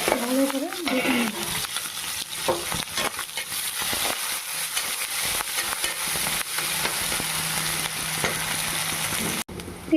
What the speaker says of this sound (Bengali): একটুখানি গোটা গরম মশলা, এইগুলো ভালোভাবে ভাজা হয়ে গেছে